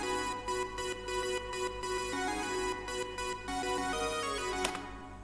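Synth playing scales through a C plate 2x2 plate reverb in LMMS, for a remake of a song: sustained tones stepping up and down in a steady run, with reverb tails ringing out alone and no talk.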